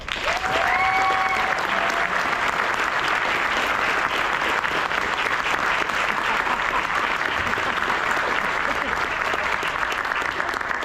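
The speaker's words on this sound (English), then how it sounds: "I think you guys need some applause for yourselves" A large audience at a RoboBoat 2026 robotics competition award ceremony breaks into loud, sustained applause that fills the whole stretch without pause, with a few whistles cutting through near the start.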